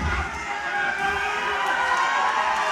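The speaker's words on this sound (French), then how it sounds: "La foule qui semble apprécier." Wrestling crowd at a live pro wrestling kickoff event, a steady dense roar of cheering voices filling the hall throughout, loud and continuous.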